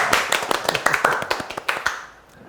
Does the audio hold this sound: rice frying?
no